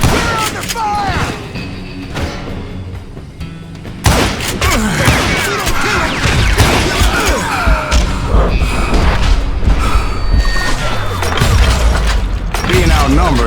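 Gunfire in Call of Juarez: Gunslinger, a gunfight at a camp outside Parachute, Colorado, with loud rapid shots and booming impacts layered over game music, dense and near, and a voice speaking in places.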